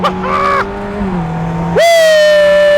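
A Ferrari F430 revs hard and climbs through the gears, its engine note rising, dropping at each shift, then surging loud and close again.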